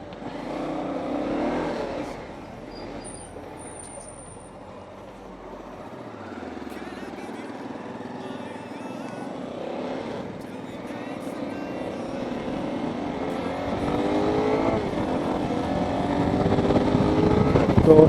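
Motorcycles of a Hyderabad riding club pulling away together on a group ride after breakfast, a mix of engines rumbling and revving that grows louder toward the end, with talk in the background.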